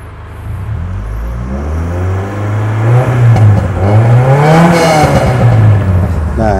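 A car engine revs up and down through an aftermarket exhaust, tuned so the racing note only comes in around 3000 RPM, giving a loud, close, rising and falling growl with no talking.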